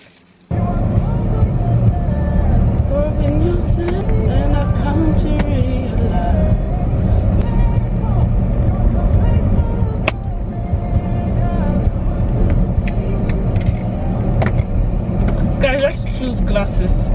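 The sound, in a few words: road traffic while queued in a car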